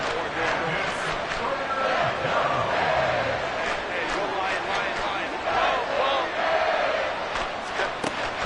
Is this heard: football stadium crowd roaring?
yes